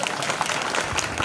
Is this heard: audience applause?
yes